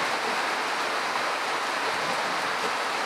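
Heavy rain pours steadily in Manila, a dense, continuous hiss with no breaks, loud and close.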